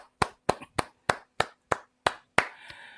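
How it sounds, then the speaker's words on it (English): A single person's hands clap about eight times in a steady, even rhythm at an event welcoming a guest speaker, each clap sharp and close, the last one trailing into a brief spread of further clapping. "please give a round of applause"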